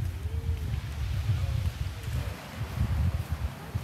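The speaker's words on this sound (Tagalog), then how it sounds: "Pero sa Bulabo, guys, mahangin dahil lamihan. Ayan, medyo ramdam natin yung hangin sa mga nyug." Wind gusting through coconut trees on Bulabog beach on Boracay, a soft low rushing with microphone buffeting that swells and eases, faint and fairly close.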